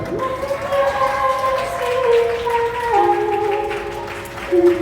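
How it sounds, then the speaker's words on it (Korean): Wedding guests in a wedding hall applaud the bride and groom, a steady, dense wash of clapping that holds for the whole stretch beneath sustained, shifting musical tones. "박수 부탁드립니다"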